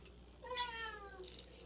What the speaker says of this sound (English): the cat has come in and joined me and is talking